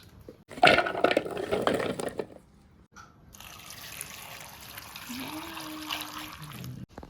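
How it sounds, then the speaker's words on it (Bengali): Pumpkin and drumstick stems washed in water in a kitchen: a short burst of splashing and dripping, a brief pause, then a softer steady trickle of running water with faint clatter. "আর একবার ধুয়ে নেব।"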